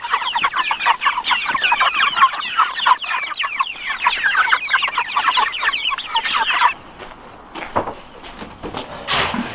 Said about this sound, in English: the chickens love eating that stuff.